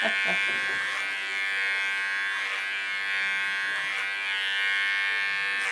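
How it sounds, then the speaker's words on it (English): Electric hair clippers buzz close by while trimming short hair, a steady bright whine that dips slightly in rhythm as the blades move through the hair, with no voices. "Doe de tondeus ook, hè?"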